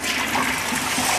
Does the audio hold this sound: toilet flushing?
yes